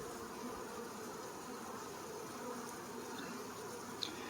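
Honeybees buzz during a package installation into a hive with fondant, a faint continuous hum of many insects with no talking.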